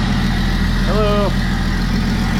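A 1995 Jeep Wrangler's 4.0-liter straight-six engine idling with the hood open, a steady, loud, low rumble throughout, with a short whistle-like tone briefly over it.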